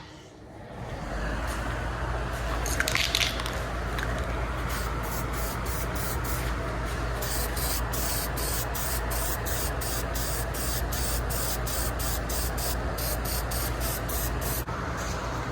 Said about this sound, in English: let's take this over into our paint booth and get some high temp black going on it